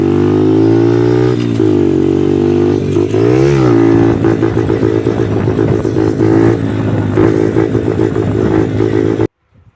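Honda Dax motorcycle engine held loud and steady during a wheelie, with a brief dip and rise in revs partway through, then cutting off abruptly at the end.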